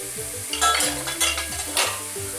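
Pappardelle being stirred in a pot of boiling water: soft scraping swishes repeat a few times over a steady bubbling hiss, close by, with no talking.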